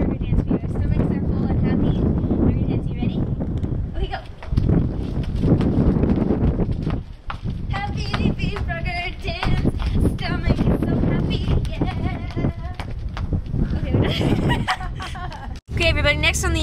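Gusty wind buffets a microphone outdoors at a pickleball game on Independence Day, loud rumbling bursts rising and dropping throughout, with people talking over it.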